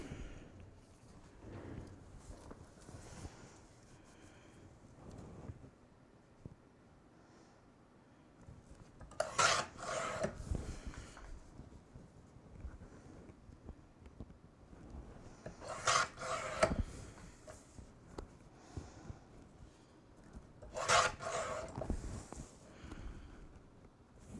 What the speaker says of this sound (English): I'm going to go cut this on the big trimmer down to 8 5/8